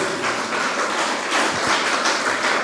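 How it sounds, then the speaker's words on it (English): An audience claps for the Apollo Hospitals team at an International Epilepsy Day awareness program at Rainbow School, Nellore, a steady dense patter of applause filling the room. "A big round of applause to the whole team of Apollo Hospitals."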